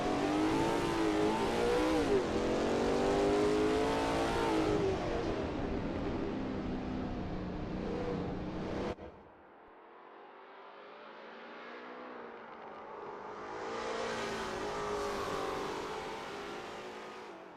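A Lola T70 MkII Spyder race car engine roars at Road America in a racing video game, loud and revving hard, then cutting abruptly to a quieter drone before climbing again.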